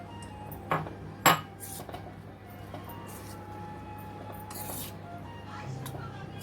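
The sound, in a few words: cauliflower florets added and mixed into coating batter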